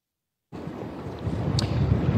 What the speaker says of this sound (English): The wind gusts are certainly here, as you can tell in my live shot.